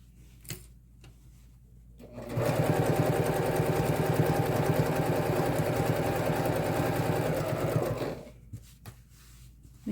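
A domestic sewing machine stitches through thick layers of a messenger bag, a steady close whirring run of about six seconds starting after a short quiet pause with faint handling clicks, then stopping abruptly.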